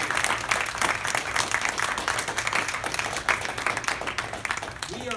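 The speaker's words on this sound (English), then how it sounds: "Let's give a round of applause to these guys." Audience applause at an academic gathering with the dean and provost present: a steady, dense wash of many hands clapping that holds evenly for about five seconds, filling the room without pause.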